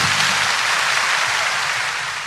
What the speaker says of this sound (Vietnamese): Xin đại chúng hãy dành một tràng vỗ tay thật lớn để nhiệt liệt chào mừng.